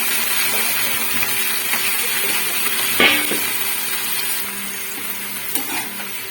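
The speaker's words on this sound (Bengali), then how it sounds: "এবার এটা ভালো করে আঁচ বাড়িয়ে ভেজে নেবো" Drained potatoes and Malabar spinach frying in a pan, a continuous close sizzle with occasional stirring knocks and scrapes, steady and moderately loud, no talking.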